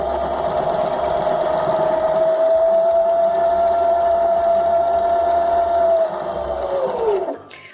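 Baby Lock sewing machine stitching a seam, a loud steady whirring hum that runs for several seconds, then winds down and stops.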